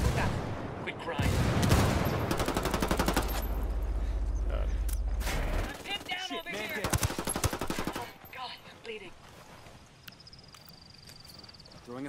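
Rapid machine-gun bursts and heavy gunfire in a video game shooter, loud and sustained for several seconds before giving way to scattered shots and clatter, with voices talking over the action.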